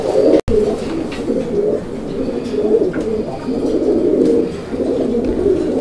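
Raj Golla pigeons coo in a steady, continuous low warbling chorus, close and fairly loud, with several birds overlapping throughout and no talking.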